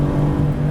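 A Guntherwerks 400R engine holds a steady, buzzing rev with a strong low tone, close and loud, heard alone in a short burst.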